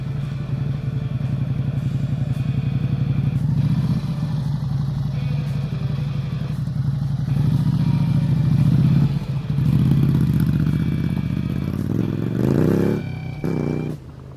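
Honda CRF250L dual-sport motorcycles on a high mountain road pass close by a roadside camera, their loud single-cylinder engine drone swelling and revving as each bike rides by, with clattering over the rough surface.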